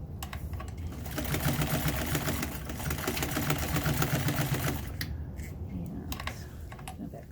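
Sewing machine stitching a denim-backed calico hotpad, a steady close mechanical whirring hum with rapid needle ticking that runs for about four seconds, then stops and gives way to a few soft handling clicks.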